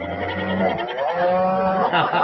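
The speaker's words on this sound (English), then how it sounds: "There's got to be a cow or something that comes to the window." A cow moos loudly and close in a long, low, drawn-out call with a slight rise in pitch, heard on its own with no talk over it.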